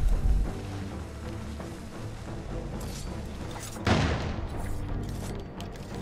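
Grenade explosion in Assassin's Creed 4 Black Flag, a heavy boom near the start, then a second blast with a bright rushing burst midway, over continuous game noise.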